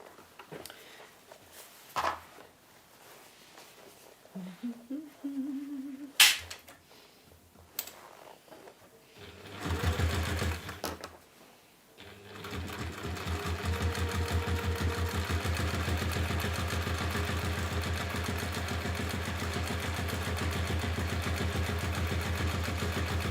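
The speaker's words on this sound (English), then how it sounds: "We're going to top stitch down." Sewing machine top stitching a bowling bag; after some scattered handling clicks and a short burst of stitching, the motor settles into a steady, continuous whirring hum for the second half, close by, with no talking.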